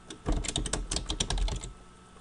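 Rapid keystrokes clatter on a computer keyboard as a title is typed, a close burst of crisp clicks lasting about a second and a half before stopping, with no talking.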